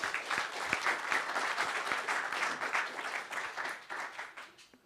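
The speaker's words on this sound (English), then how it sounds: "Can we get one more round of applause for our speaker?" A conference audience in a function room at a JuliaCon programming event applauds its speaker. The steady, crowded clapping sounds close and tapers off toward the end.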